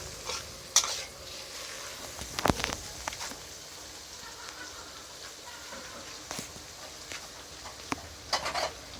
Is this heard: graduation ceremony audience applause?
no